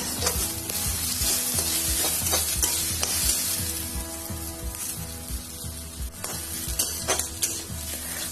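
Onion and fish curry ingredients frying in a wok, Assamese style, with a loud continuous sizzle and repeated scraping stirs and clinks of a utensil against the pan, no voices.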